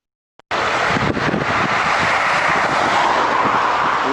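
A car sliding through a curve as its tires lose grip, a sudden loud, sustained roar of rushing tire and engine noise buffeted by wind, continuing without pause after a short silence.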